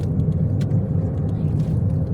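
A car engine drones steadily from inside the vehicle on a long road trip from Samar to Bulacan, with the air conditioning switched off, giving a loud, continuous low rumble with faint road noise and no talk.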